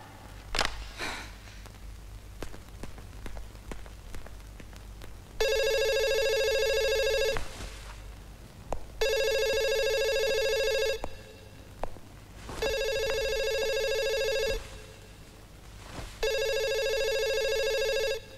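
A telephone rings in a Hindi romantic drama film, four long loud electronic rings in steady rhythm with pauses between, over a low background hum and a few faint rustles before the first ring.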